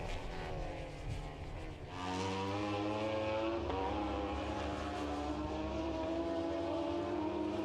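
A Ducati Panigale V4R superbike roars through a race at Oschersleben, its engine rising in pitch as it passes close and then holding a loud, sustained high whine.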